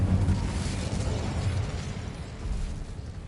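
Incendio fire spell blasts in Hogwarts Legacy, a steady roaring, crackling burst of flame and impact noise lasting a few seconds at close range.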